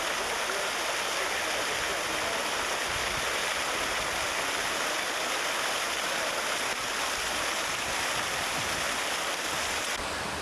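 Fountain water at Peterhof palace near St Petersburg, Russia, pours and splashes in a steady, loud, unbroken rush that fills the whole scene, with no voices over it.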